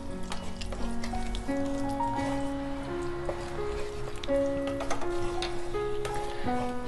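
Thick egg malai curry gravy stirred in a hot pan, steady sizzling and bubbling with soft scraping strokes of a spoon, close and continuous, with tonal background music.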